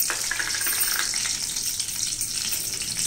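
Urad dal sizzles and fries steadily in hot oil for a sweet pumpkin curry, a dense, continuous crackling hiss close by with no voices.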